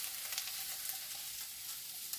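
Eggplant salad heating with garlic in a pan, a steady soft sizzle and crackle of frying that runs evenly throughout with no voices.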